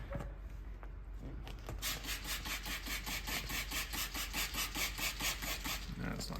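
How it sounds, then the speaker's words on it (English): Utility knife slicing through excess paint protection film on the rear dually fender of a Ford truck, a steady run of rapid rasping scrape strokes close up, with some faint talk underneath. "I'm just gonna take my knife, I'm gonna cut off a good chunk of this excess material there."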